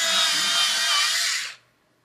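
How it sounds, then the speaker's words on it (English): A colored pencil in pale vermilion is sharpened for drawing, a close, bright grinding whir lasting about one and a half seconds before stopping abruptly into silence. "So once again, I'm going to just sharpen this real quick."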